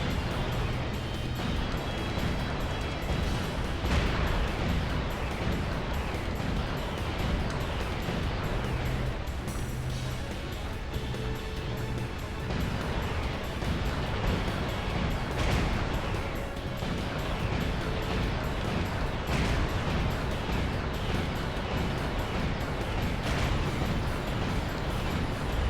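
Booming cannon shots in a video game fired against cannoneers, loud repeated blasts that overlap amid constant battle rumble and clatter, with no voices.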